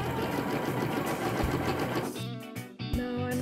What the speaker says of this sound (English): Now I'm top stitching the flap from the other side after I pressed it flat